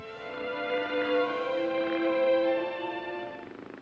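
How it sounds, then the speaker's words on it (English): A steady, rumbling hum with strong harmonic layers, a cat's deep purr resembling a motorcycle engine, swelling slightly and then tapering off. "it's not clear whether it's a motorcycle or whether it's a cat purring"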